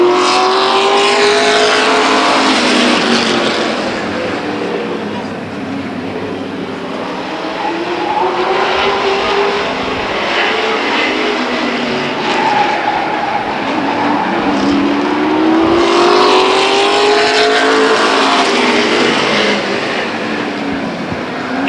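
Race cars roar around Stockton 99 Speedway in a 2001 oval race, engines droning loudly and continuously as cars pass close by, with pitch sweeping up and down throughout.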